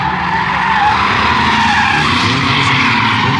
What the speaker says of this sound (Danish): Han har jo bygget sig en racerbil med en Mercedes V12 motor.